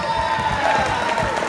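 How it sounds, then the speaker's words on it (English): A crowd at a charity auction applauds and cheers steadily, a dense wash of clapping with scattered shouts and whoops filling the room from start to finish. "Having a big round of applause"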